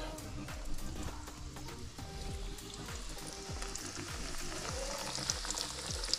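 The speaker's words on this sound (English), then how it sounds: "first piece going in the fryer" Tilapia pieces frying in a fryer give a steady, close crackling sizzle with scattered pops that continues throughout at a moderate level.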